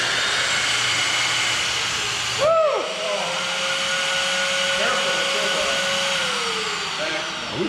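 A shop vacuum sucks fuel out of a semi truck's tank, a steady roaring whoosh with a sharp drop in pitch and a lingering whine as the load changes, and a voice speaks faintly under it.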